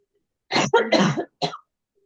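A couple of harsh, close coughs, one longer burst then a short single one, in otherwise quiet surroundings.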